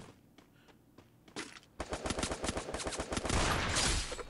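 Gunfire in the mobile game Free Fire played on an iPad: a few sparse shots, then a rapid automatic burst of dense rattling fire that grows louder and continues to the end, with no talk.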